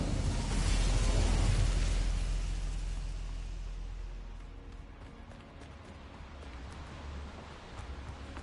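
Incendio fire spell cast in the mobile game Harry Potter: Hogwarts Mystery, a loud, rumbling fiery burst that swells over the first two seconds, then slowly subsides into a softer crackling hiss.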